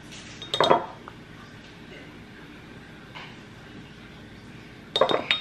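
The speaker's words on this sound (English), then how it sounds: "I'm just gonna mix everything in my measuring cup" Sugar and cocoa powder stirred together in a measuring cup, giving two short bursts of clinking and scraping near the start and end, with a quiet gap between them.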